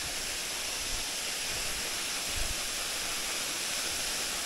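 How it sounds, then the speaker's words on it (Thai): Broad, steady rush of a waterfall on a hiking trail at Phu Kradueng in Thailand, a continuous roaring wash of falling water close by with no break or voices. "นี่ นะครับน้ำตก"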